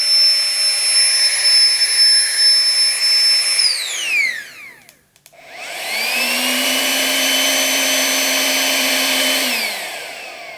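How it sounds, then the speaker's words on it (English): A Flextail Max Pump 3 portable air pump runs with a loud, steady whine, winds down to a brief stop, then spins up again into a lower, steady droning hum before its pitch starts to drop, close by with no talking. "That is considerably quieter for a more powerful pump."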